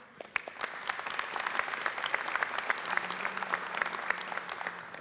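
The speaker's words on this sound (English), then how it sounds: "Can we give her a round of applause?" An audience at a solar finance conference session gives steady, dense applause, many hands clapping together throughout at a moderate, even level, with a faint tone underneath in the latter half.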